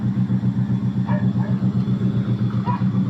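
A motor tricycle engine rumbles steadily and loudly close by, a low pulsing idle with no voices over it.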